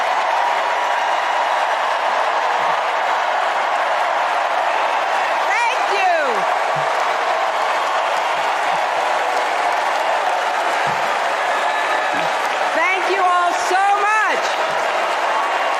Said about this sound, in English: The applause goes on for 2 entire minutes.